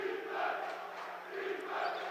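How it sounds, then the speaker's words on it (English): A basketball crowd murmurs and rumbles in a gym during a Wednesday night rivalry game, rising and falling in swells under no clear voices. "Nice Wabash crowd on hand for this Wednesday night ball game against the biggest rival we have"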